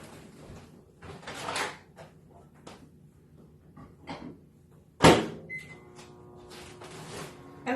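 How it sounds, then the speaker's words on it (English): A microwave oven being loaded with fish for tacos in a home kitchen: a door thunks shut with a sharp clack, followed by button beeps and the steady hum of the oven starting, with softer handling clatter before it and no talking. "I'm going to pop this right in the microwave for 3 minutes"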